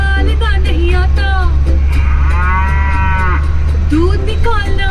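A cow moos loudly and repeatedly in a played advertisement, long drawn-out lowing calls over a constant low engine-like hum, with faint voices in between.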